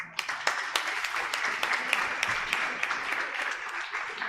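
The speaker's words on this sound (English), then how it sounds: "I think you also should applaud yourselves because the questions are also very insightful." An audience at a school award function for Sri Adishankara Day claps steadily for several seconds, a dense patter of many hands with a few sharper individual claps standing out.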